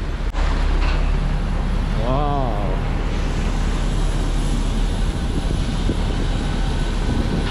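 A loud, steady Lion Air airplane engine roars throughout at Soekarno-Hatta Airport, Jakarta, with a brief voice heard once underneath the noise.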